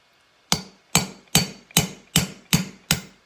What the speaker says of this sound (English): Take a hammer and just tap the shaft down